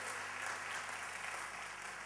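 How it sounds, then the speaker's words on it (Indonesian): A church congregation claps together in steady, dense applause that fills the space evenly, with no pauses and no voices standing out above it. "Tepuk tangan buat Tuhan, saudaraku."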